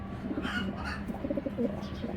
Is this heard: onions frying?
no